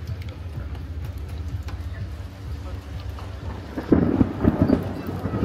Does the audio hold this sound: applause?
no